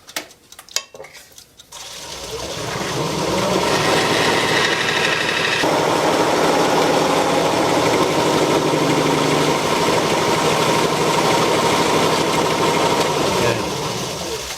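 Wood lathe spinning a hollow form while the face is cleaned up with a long tool far over the tool rest, a loud steady whirring and scraping that builds after two seconds and holds to the end.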